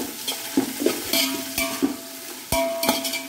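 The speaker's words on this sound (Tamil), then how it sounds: "போட்டுட்டு இதை நல்லா வந்து வதக்கி விடணும்." Onions with a little salt sautéing in a pan for mutton biryani, a steady frying hiss broken by repeated close, sharp scrapes and taps of a spoon against the pan, with no talk.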